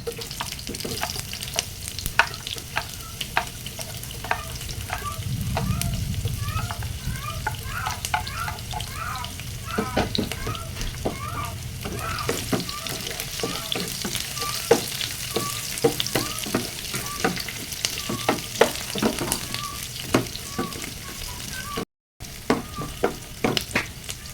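Onions sizzling in a pan for chicken adobo flakes, a continuous soft frying hiss broken by repeated scraping and clinking of a spatula stirring, close and fairly quiet.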